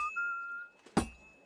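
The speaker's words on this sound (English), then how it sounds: "Come on, whistle for me, Henry." Henry whistling in the video game Kingdom Come Deliverance 2: a single faint, steady whistled note held for about half a second, followed by a brief dull thud.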